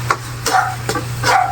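Bagoong cooking in a pan is stirred in three or four quick scraping strokes over a soft simmering bubble and a steady low hum, close and fairly loud, with no voices.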